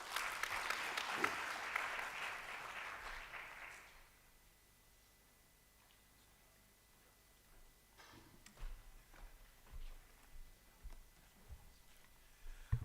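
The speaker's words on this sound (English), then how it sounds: "So let's clap for them." Audience applause for a panel at a national cancer summit: a dense burst of clapping for about four seconds that quickly dies away, followed by quiet room noise with a few scattered knocks.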